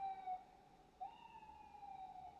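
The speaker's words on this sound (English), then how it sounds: "all week the sirens have been really, really bad" Sirens wail outside, faint and distant, as a thin rising and falling tone that sweeps up once partway through and then holds on alone.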